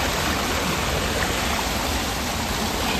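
A waterfall pours and splashes in a broad, loud, unbroken roar of falling water, steady and close with no other sounds standing out.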